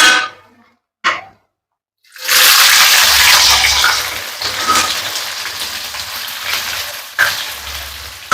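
Onion dropped into hot oil tempering with cumin, ginger, dried chilli, garlic and coriander for chicken kosa bursts into a loud, close sizzle after a short clatter, then settles into a steady frying hiss.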